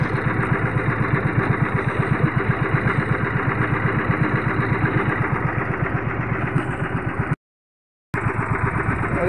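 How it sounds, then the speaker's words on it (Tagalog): A small fishing boat's engine idles steadily with a fast, even chugging rhythm, running on because its ground wire has come loose so it won't shut off; loud and close, with a brief dropout near the end. "Tanggal ang ground ng makina ko. Kaya po ayaw tumigil."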